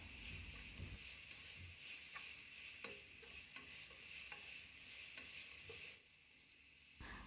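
Crushed dried chilli stirred into shallots and curry leaves frying in a pan, a faint continuous sizzle with soft scraping ticks of the spoon, quieting briefly toward the end.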